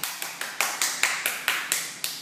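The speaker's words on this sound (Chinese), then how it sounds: "鼓掌" Hands clapping in a steady run of about nine sharp, close claps during a wind turbine model design competition session, with no talking.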